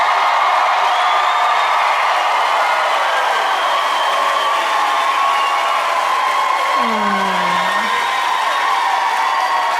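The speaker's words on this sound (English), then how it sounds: "that's very kind of you to cheer for that." A stand-up comedy audience cheers and whoops loudly, a steady roar of crowd noise filling the room throughout, with a brief lower voice cutting in near the end.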